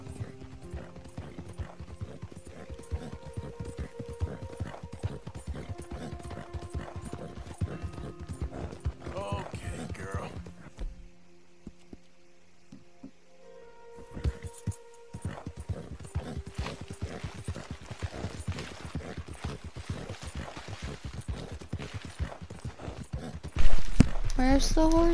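Steady clip-clop of horse hooves with creaking wagon mechanics in Red Dead Redemption 2 runs throughout, pausing briefly midway, while people talk over it.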